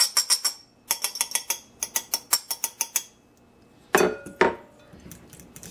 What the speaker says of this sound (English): And now I'm going to add my coconut flour.